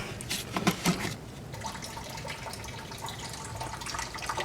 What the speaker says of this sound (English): we can fill the system up with coolant. So I'm going to fill it from right here